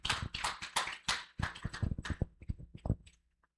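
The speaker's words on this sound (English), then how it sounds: "A warm round of applause again for Madame Durai" A small audience at a Nigerian book launch claps in a quick, scattered burst of sharp hand claps that thins out and fades to silence within a few seconds.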